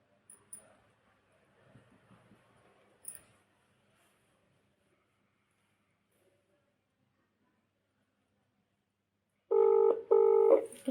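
After quiet rustling and long silence, a phone call attempt produces two loud, steady electronic ringback tones in quick succession near the end.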